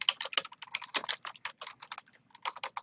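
Rapid, irregular clatter of keys on a computer keyboard, typed continuously at close range with no talking.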